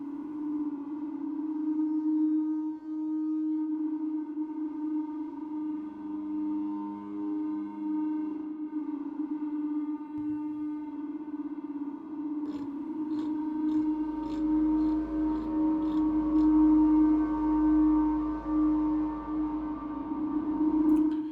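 A sustained feedback drone patch on an Empress ZOIA with wavering, unstable tones that shift in timbre, joined midway by faint chirping blips and a low rumble.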